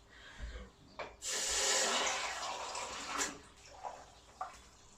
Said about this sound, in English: Get some water in this.